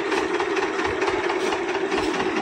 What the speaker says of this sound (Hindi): यह ट्रैक्टर बहुत पुराना ट्रैक्टर है भैया।